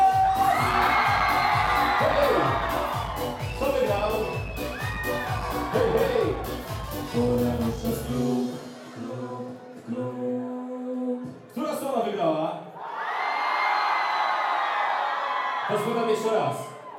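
A club crowd at a concert at Blue Star in Sułków near Wieliczka cheers, claps and shouts loudly over a pounding beat, pauses while a voice speaks, then erupts again.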